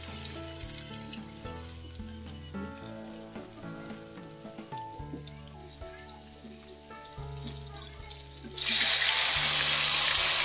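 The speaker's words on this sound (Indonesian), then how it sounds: "Bila minyak telah panas, kita tumis bumbu yang telah kita haluskan tadi." Ground spice paste drops into hot oil in a wok and bursts into a loud, close, continuous sizzle near the end, after a stretch of soft background music.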